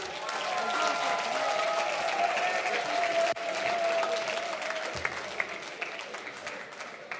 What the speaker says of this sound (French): l'équipe Les Meilleurs, on les applaudit!